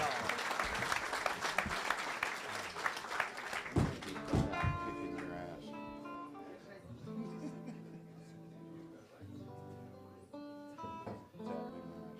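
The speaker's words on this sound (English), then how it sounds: "big really round of applause" Applause from an audience fades out, giving way to soft musical tones and a voice over the quieter end.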